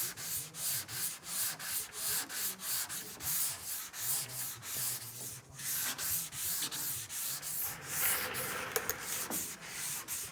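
Sanding block rubbing guide coat on the body panel of a 1959 Chevy El Camino: steady back-and-forth strokes in an even rhythm, loud and close, with no talking.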